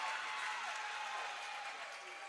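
Lee-Scott fans cheer at a varsity high school basketball game against Glenwood, a broad, steady wash of crowd noise and applause that fades slightly toward the end.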